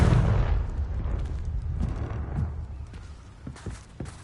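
A Confringo blasting spell in the video game Hogwarts Legacy bursts with a deep, loud boom at the start, then a rumbling decay followed by scattered light impacts and footstep-like taps.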